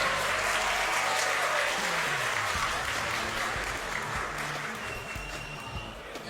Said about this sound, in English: let's give, I think, from the ground, a round of applause for our finalist.